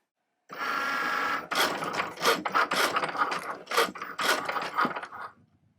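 A Cricut cutting machine cuts a Santa Christmas Eve treat plate design with rapid ratcheting, whirring bursts of motor and carriage movement, repeating in uneven rhythmic pulses up close before stopping abruptly.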